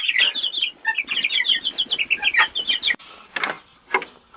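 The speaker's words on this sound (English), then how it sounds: "that's the rooster closer to us, and those two are hens" Chickens on a farm: a rooster close by and two hens further off, giving a run of dense, overlapping clucks and chirpy calls for about three seconds, then a few sharper separate squawks after a brief pause.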